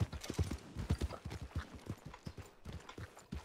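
Horse hooves clip-clop steadily in RedM, the Western roleplay game set around Valentine, a brisk rhythmic trot of close, moderately loud beats with no talk over them.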